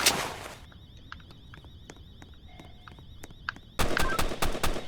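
Bursts of gunfire in the Roblox game Tycoon Criminal: a loud opening rattle, a stretch of sharp scattered single shots over a faint electronic tone, then dense rapid automatic fire at the end.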